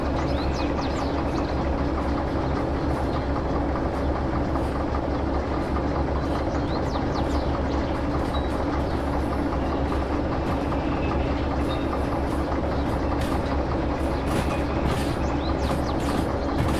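Steady rumble of a train moving in the Trans Siberian Railway Simulator game, a continuous dense rolling drone with faint rail clatter, loud and unbroken throughout with no talking.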